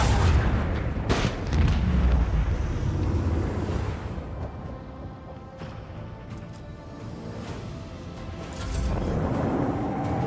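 Macro cannons on a starship in the Warhammer 40k Rogue Trader video game fire heavy, rumbling booms, with several loud blasts early on, then a lingering roar that swells again near the end.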